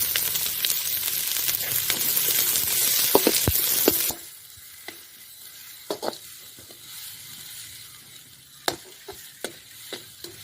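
Onions fry in a pan until golden for a village-style country chicken curry, with a loud steady sizzle that suddenly quiets, followed by scattered clinks and scrapes of stirring against the pan.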